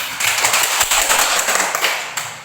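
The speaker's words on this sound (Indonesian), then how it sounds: "tepuk tangan untuk kelompok 1" A primary school class claps for the first group, a dense burst of many small hands applauding close by, steady and brisk before trailing off.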